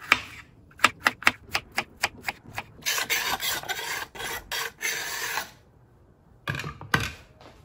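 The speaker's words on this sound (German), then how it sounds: "Als nächstes kommen die Radieschen dran." A knife dicing radishes into small cubes on a cutting board, with a quick run of crisp regular chops followed by rougher scraping cuts and brief pauses.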